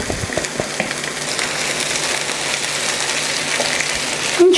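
Lentils tipped into onions frying in a pan, a dense steady sizzle close up with faint stirring scrapes throughout.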